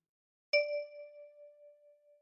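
A single key on a ten-key kalimba, plucked with the right thumb, gives one bright metallic note that rings out and slowly fades in the quiet, close to the listener.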